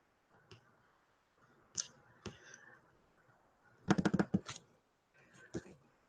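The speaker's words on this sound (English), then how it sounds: "I'm actually writing that and typing it at the same time." Keys clicking on a computer keyboard in short irregular bursts, including a quick flurry of keystrokes, fairly close and quiet in an otherwise calm room.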